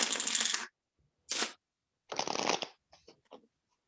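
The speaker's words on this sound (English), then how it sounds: "And give it a good shuffle." A deck of playing cards is shuffled at a magic lecture, with three quick riffling bursts followed by a few faint flicks and taps, all quiet and close.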